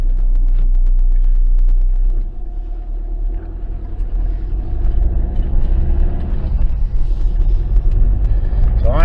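A Ford Transit Custom 2.2 diesel van engine idling nearby, a loud low rumble that drops a little after a couple of seconds and then holds steady with a slight rise toward the end.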